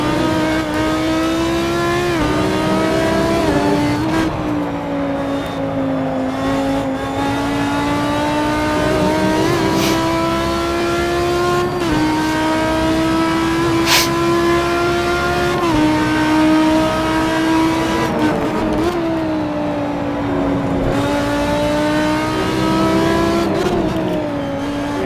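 GT3 race car engines in Assetto Corsa at the Red Bull Ring, a loud continuous roar of several cars revving and shifting through gears, steady throughout with no talk.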